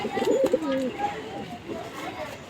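Madrasi tournament pigeons in a loft give soft, repeated cooing calls up close at the start, then quieter rustling, with a voice talking in the background.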